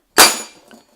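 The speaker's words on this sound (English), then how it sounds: "Chisels, air chisel hammer, and Milwaukee Portaband." A chisel strikes a stuck hub on a power wheelchair during a teardown: one sharp metallic impact up close, followed by a brief ringing decay and faint clatter, with no talking.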